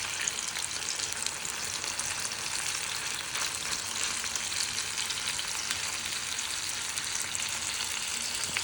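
Fish fries in hot oil in a home kitchen, giving a dense, even sizzle that hisses constantly and close up for the whole stretch with no voices.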